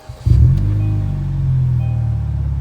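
A car with a deleted muffler starts up with a sudden loud rumbling burst, then settles into a deep, steady idle that drones on alone, close and loud.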